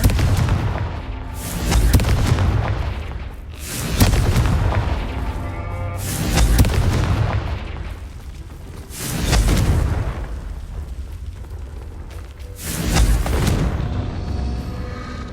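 Confringo spell blasts go off in the video game Hogwarts Legacy as a run of heavy, booming explosions. Four or five rumbling bursts come at intervals of a few seconds, loud and close, with no talk over them.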